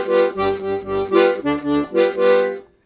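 A piano accordion plays a Brazilian baião rhythm with both hands, bass and chord pulses under a bouncing melody in short rhythmic bursts, ending abruptly, with no voices.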